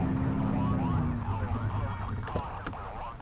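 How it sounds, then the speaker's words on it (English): A police siren sounds in the video game The Precinct, a loud wavering tone fading after about a second, followed by engine hum and a couple of sharp clicks. "Get on their tail and flip the siren."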